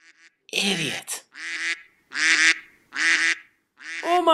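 Cartoon mutant ducks from a toxic-sludge-polluted pond quack and honk in a run of five loud, harsh, goose-like calls, each about half a second long, close up and with no talking.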